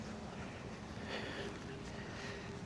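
Wind blowing outdoors on a nature walk, a steady broadband rush with gusty swells, buffeting the microphone continuously for a few seconds with no clear talk.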